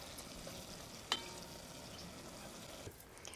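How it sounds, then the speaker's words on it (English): Ground beef browns in a hot pan with a soft, steady sizzle and crackle, broken by one sharp clink from a utensil and a few faint stirring scrapes, with no talking. "Just browning the ground beef."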